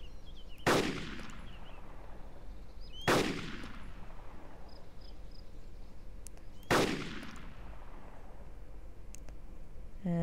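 Three separate sniper rifle shots in the video game DayZ Epoch, each a sharp loud crack with a ringing decay, spaced several seconds apart over quiet outdoor ambience.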